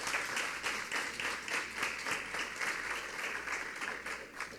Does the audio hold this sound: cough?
no